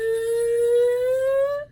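A steady, reedy buzzing tone from a plastic comb and napkin kazoo, held for under two seconds, slowly rising in pitch like a siren, rich with bright overtones, then cutting off abruptly.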